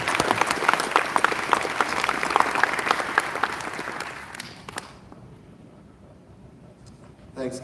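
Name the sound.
applause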